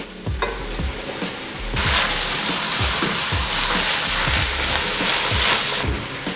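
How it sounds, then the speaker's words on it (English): Squash tumbles into a pan of frying carrots and peppers for chicken soup, and the steady close stir-fry sizzle swells into a louder, brighter hiss with scraping stirs throughout. "Now it's time to add our squash."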